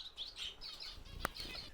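Zebra finches in an aviary chirp in a quick series of high, light calls, close and fairly soft, with one sharp louder note near the end.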